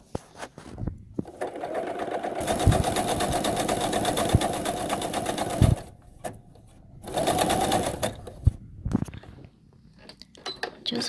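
A sewing machine fitted with a button and buttonhole attachment stitches in two sustained runs of steady, close, whirring mechanical clatter, with brief handling clicks between and after.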